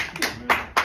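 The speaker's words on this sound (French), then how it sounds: "Applaudissons pour lui." A church congregation claps during a sermon, three sharp, loud hand claps spaced evenly in under a second, close and distinct.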